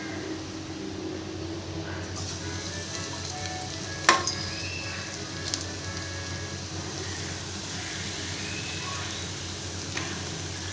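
Onion bajji batter frying in a pan of hot oil for snacks, a steady close crackling sizzle throughout with one sharp clink partway through and no talk.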